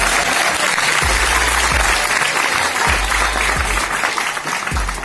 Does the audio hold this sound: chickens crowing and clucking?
no